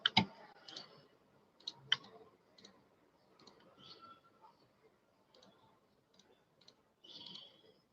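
A computer mouse clicks on a button, giving sharp, faint clicks scattered over several seconds against a quiet room background.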